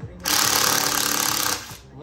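Electric screwdriver with an impact hammer action backing out tight, never-removed screws from a Yamaha YST-SW800 powered subwoofer; a loud, steady rattling whir runs for about a second and a half, preceded and followed by someone talking.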